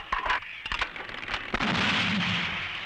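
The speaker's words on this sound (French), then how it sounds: "La destruction ou la neutralisation de concentrations ennemies relève de l'artillerie de 155" Heavy 155 mm artillery firing, a series of sharp booming reports spread across the first half, then a sustained loud rumbling roar that holds to the end, with no speech.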